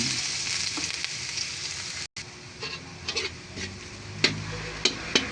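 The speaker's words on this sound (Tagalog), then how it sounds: "Una po muna, magigisa ako ng bawang." Garlic sautéing in hot oil in a pan for palabok: a steady, close sizzle with scattered clicks and scrapes of stirring and a brief cut in the middle.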